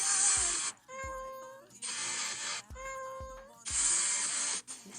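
Several loud, drawn-out cat meows, about three, alternating with softer pauses and faint background noise.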